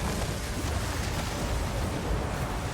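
A spell explosion in the action RPG Path of Exile 2 fills the moment with a dense, steady rumbling roar, a sustained booming wash with no clear break, loud and continuous throughout.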